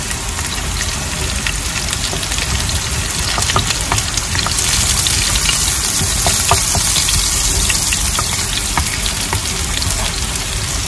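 Onion dropped into hot oil in a home kitchen while cooking chicken, rayo greens and dal, giving a loud, steady frying sizzle that holds for the whole stretch with light stirring scrapes and no voices.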